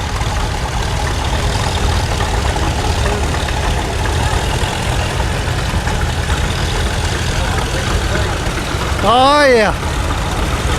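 An old tractor engine runs at a steady idle, a loud, continuous low rumble close by. A brief high whistle-like chirp cuts through near the end, and someone speaks briefly.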